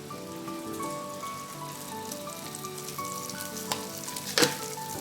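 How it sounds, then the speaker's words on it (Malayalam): Garlic and green chili fry in hot oil with a steady, close sizzle and crackle, with a few sharper spatters near the end and no voices. "വെളുത്തുള്ളിയൊക്കെ നന്നായിട്ട് വഴണ്ട് വന്നിട്ടുണ്ട്"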